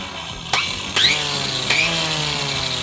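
A cordless electric grass trimmer, the OSUKA OCGT 406, whines loudly at high revs, its motor pitch jumping up in several sharp surges before holding a steady, close, continuous buzz.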